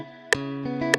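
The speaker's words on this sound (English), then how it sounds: "and without the guitar rig, it sounds like this," A dry sampled guitar melody from a Kontakt instrument without Guitar Rig processing: two plucked notes ringing briefly and thinly, quiet and close.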